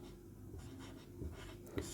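A chemistry equation is written by hand, with faint scratchy strokes and a few soft taps over a quiet background.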